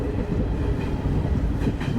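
A train between Shoranur and Kollam rumbles steadily along the rails, a loud, close, continuous roar with faint rhythmic clatter underneath.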